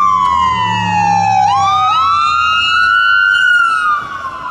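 A toy ambulance siren wails continuously, its electronic tone sweeping down then rising again, loud and close with no talking.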